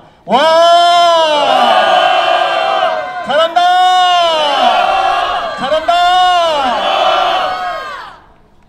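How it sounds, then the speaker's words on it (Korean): A crowd of students at a rally against impeachment at Seoul Theological University shouts and cheers in three loud, sustained bursts of massed voices with brief dips between them. "한 번만 더 환호성 질러주시다"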